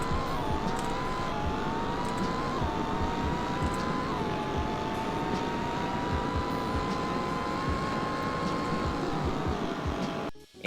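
A Dodge Demon drives in a Roblox Greenville drag setting, its game engine holding a loud, steady high drone with brief pitch dips as gears shift, continuous and close with no talk, cutting off abruptly at the end.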